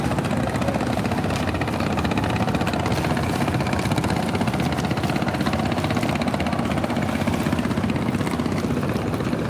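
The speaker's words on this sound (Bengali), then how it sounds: "দুটি টলার কিন্তু একই সাথে ছেড়ে যাচ্ছে" Two trawler boat engines drone together in a steady, continuous chug as they pull away on a fast-flowing river at Sadarghat launch terminal, with no voices.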